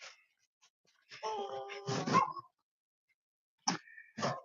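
A dog barks and yelps a few times in short bursts, separated by silence, heard outdoors on a winter walk.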